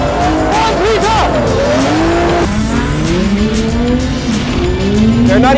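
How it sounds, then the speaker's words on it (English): Drift cars slide around a race track in a close pack, with engines revving and rising and falling in pitch and tires squealing almost continuously, loud and near. "Things seem to start well with all the guys drifting all over each other around the track, with Peden leading the chase."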